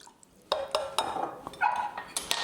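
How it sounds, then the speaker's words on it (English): A whisk beats homemade teriyaki sauce thickened with cornstarch and rice vinegar in a bowl, making a run of close, irregular metallic clinks and scrapes against the sides with quiet gaps between strokes. "We just need to whisk this up and done."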